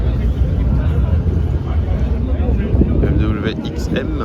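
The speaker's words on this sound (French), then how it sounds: "BMW XM. Et derrière une E9 3 litres CSL." A BMW XM and a BMW E9 3.0 CSL pass by at the Le Mans Classic, their engines a loud, steady rumble mixed into heavy crowd babble and wind, with a rising whoosh near the end.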